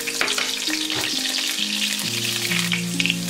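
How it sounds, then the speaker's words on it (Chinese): Sliced garlic and dried chili hit hot oil in a wok, producing a loud, close, continuous sizzle and crackle over soft background tones. "油热后放入蒜片和干辣椒"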